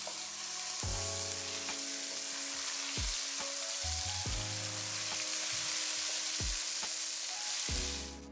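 Minced ginger and garlic sizzle and fry in hot oil in a pan for a potato karahi curry, a continuous loud hiss broken by several clanks of a spoon stirring against the pan, with no talking.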